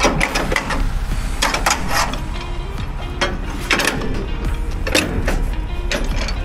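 A trailer jack crank being wound by hand, giving a steady, close, loud mechanical grinding with repeated ratcheting clicks in an uneven rhythm throughout.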